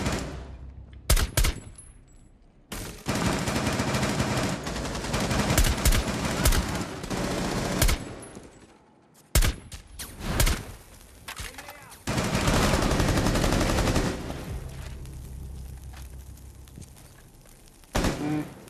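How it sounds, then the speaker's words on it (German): Rapid gunfire from a Rainbow Six Siege match, with dense automatic bursts and sharp single shots filling most of the stretch, broken by brief lulls and a few loud impacts. "Wird leider ein bisschen angeschossen gerade."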